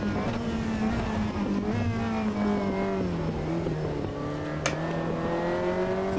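Prototype race cars in Automobilista 2 during a night race accelerate hard down a straight, engine notes climbing and shifting in pitch, loud and continuous throughout.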